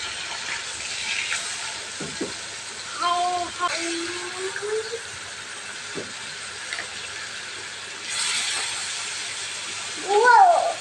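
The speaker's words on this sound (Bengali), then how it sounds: "বাকি মাছগুলো তেলে দিয়ে দিচ্ছে ভাজার জন্য।" Fish sliding into hot oil for frying, sending up a steady hiss and sizzle that swells at moments, with intermittent talking over the cooking noise.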